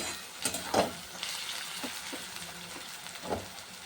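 Chopped onions frying in hot oil in a home kitchen pan, a steady soft sizzle broken by a few brief scraping stirs, close and moderately quiet with no talking.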